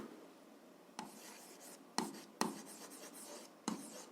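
A pen writes an algebra equation by hand on paper, with soft scratchy strokes and a few sharper taps between them, quiet and close with no talk.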